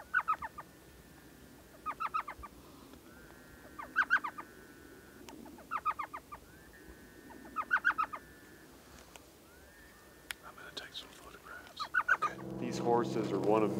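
Two Western screech owls call at night in the desert, giving a repeated series of short bouncing hoots in regular bursts about every two seconds, moderately near, with a louder rumbling noise rising at the end.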